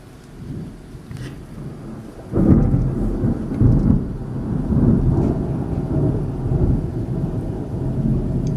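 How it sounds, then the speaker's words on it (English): Thunder rumbles through a major thunderstorm in Peterborough, Ontario, with a loud clap swelling in after a quieter start and deep rolling booms continuing over steady rain, no talking. "you can definitely see the lightning and hear the claps of thunder"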